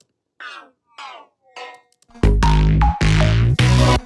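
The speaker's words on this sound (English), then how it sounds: "this weird kind of metallic-y sound" A weird metallic, high-register ear candy sound in an electronic track: a few faint ringing blips, then loud bright layered synth stabs with descending pitch bends, no voices.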